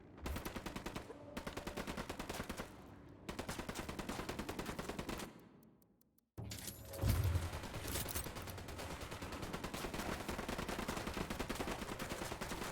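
Video game gunfire in rapid automatic bursts, loud and close, rattling in long strings with a brief drop to near silence midway before the heavy shooting resumes.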